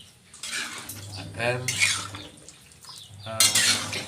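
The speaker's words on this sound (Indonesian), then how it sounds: "Sambil nanti kita aduk-aduk biar merata" Minced meat and tofu balado being stirred in a pan with a utensil, clattering and scraping against the metal in irregular bursts, with a voice talking over the cooking.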